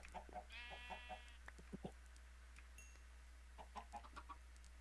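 Chickens cluck in the video game Minecraft, a few soft, short clucks scattered over a faint, steady background hum, with no talk.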